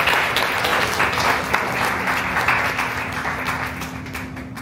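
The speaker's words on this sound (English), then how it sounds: "Can we give a little round of applause for that one?" Audience applause at an Ignite talk, a dense, even wash of many hands clapping at moderate loudness, slowly tapering toward the end, with a faint steady hum underneath.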